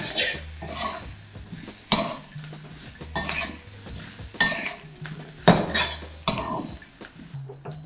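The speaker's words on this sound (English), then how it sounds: "we're just gonna let it toss in the peppers" Shrimp tossed with peppers in an oiled pan, with repeated clanks of utensil against pan in an uneven rhythm over a faint sizzle, close by and without speech.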